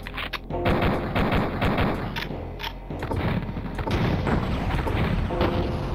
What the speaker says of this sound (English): we're actually just gonna pot shot them from a distance